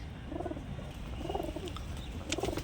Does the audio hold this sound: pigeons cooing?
yes